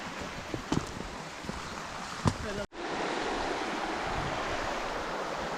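A river in the Lake District rushes and gurgles close by, a broad continuous wash of flowing water with a few knocks and handling bumps early on, briefly cut before the steady roar resumes.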